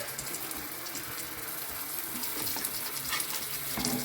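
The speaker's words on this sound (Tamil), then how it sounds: "கொஞ்சம் நெய் அள்ளி ஊற்றிக்கிறேன்." Ghee ladled into a hot pan with egg for jalar appam sizzles steadily, a dense, even crackle of frying with faint stirring noises, with no talking.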